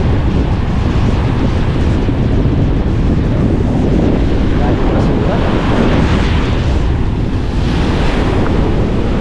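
Strong wind buffets the microphone while waves crash and surge continuously, loud and close, with no clear pauses.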